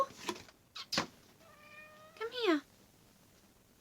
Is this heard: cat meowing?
yes